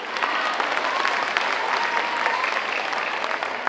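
Sustained audience applause at a children's music festival, a dense even wash of clapping that holds steady at full strength throughout with no break.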